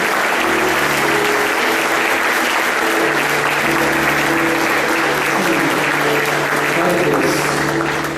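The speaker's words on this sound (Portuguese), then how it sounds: "Vamos aplaudir o Senhor." A church congregation applauds during a celebration service, a dense, steady wash of many hands clapping that fills the whole stretch at a loud, even level with a faint tonal hum underneath.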